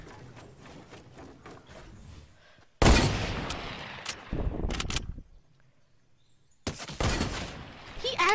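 Hunting rifle shots fire in a video game: two loud, separate blasts, each with a short ringing tail, follow a stretch of busy background noise and muffled voices.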